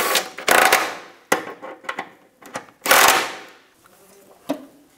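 Bolts on the rear drive shaft of a 2010-2016 Cadillac SRX are snugged down with a hand tool, giving close, irregular bursts of metallic ratcheting and clanks separated by short pauses.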